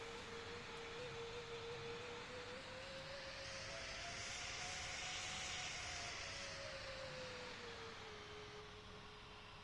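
An airliner lands at Perth airport into a strong headwind, its jet engines giving a steady, loud roar that swells to a peak midway with a rising and falling whine, then fades slightly at the end.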